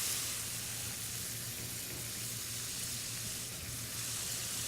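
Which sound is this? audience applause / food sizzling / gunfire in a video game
food sizzling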